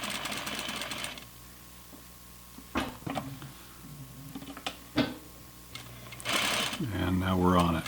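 Home sewing machine stitching a flannel pajama pants seam at a half-inch allowance, heard in a couple of short close bursts of motor whir separated by quiet handling noises and the rustle of fabric.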